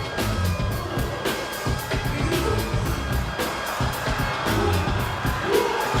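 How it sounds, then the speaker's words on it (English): A crowd at the Red Bull BC One World Final 2022 breakdance battle in New York cheers and whoops loudly without pause, with music pulsing underneath and a commentator's voice in the mix. "The crowd goes crazy!"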